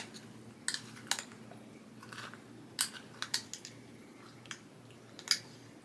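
Spoon stirring strawberries into yogurt-soaked overnight oats in a container, soft wet squishing with a few light clinks of utensil against the dish, close and quiet, no talk.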